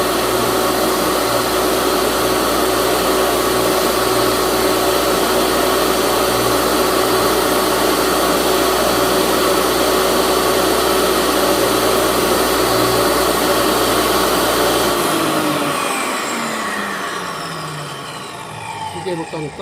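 Table saw cutting frame joints in wood for a mobile workbench, a steady loud whine running continuously before spinning down near the end.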